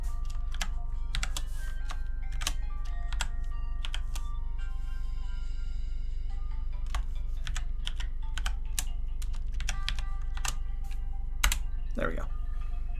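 Steady, fast clicks on a computer keyboard rattle close by, broken by short pauses, while a faint voice sits low underneath and quiet electronic tones sound now and then.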